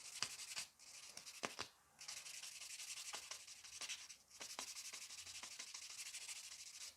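Gel nails with glitter encapsulation and a faded French finish are being buffed. Soft, quiet, close scratchy rubbing comes in steady strokes, with brief pauses and light taps between passes.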